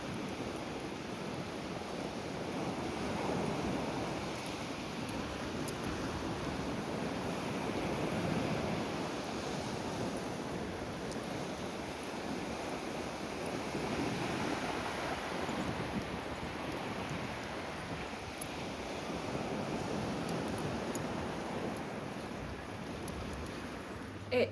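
Surf rolls steadily onto Filey beach, a continuous wash of waves blended with wind rumbling on the microphone, with no voices.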